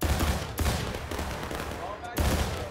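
Musket fire in the Civil War video game War of Rights: a few loud, close volleys crack out in quick succession, then another blast after a pause, with voices talking around them.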